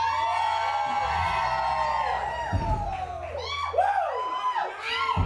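A live stand-up comedy crowd roars with sustained cheering, whoops and screams, loud and dense throughout, with an announcer's amplified voice booming over the noise.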